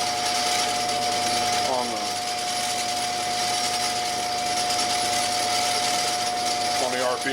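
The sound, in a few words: 6.0 Powerstroke crankshaft spinning on a balancing machine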